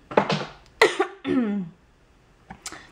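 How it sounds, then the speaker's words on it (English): A person with a sore, swollen throat coughs several times in separate sharp bursts, fairly close and loud, with quiet gaps in between and no talking. "I have to cough."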